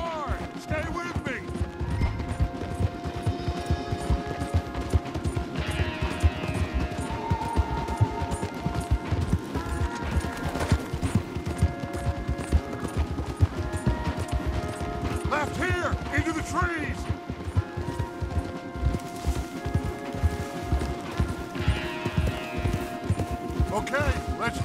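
Horses galloping hard in Red Dead Redemption 2, a steady, dense drumming of hooves with creaking tack and mechanical rattle, loud and continuous throughout, with game music and voices layered over it.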